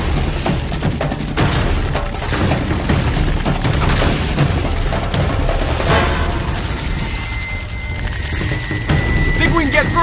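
Bursts of gunfire and booming impacts fill a firefight in Uncharted 3, loud and continuous, with a character's voice heard over the shooting.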